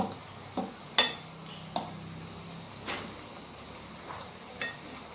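Sugar fritters fry in oil in a pot, giving a faint, steady sizzle. Soft clicks and clinks from turning them sound now and then throughout.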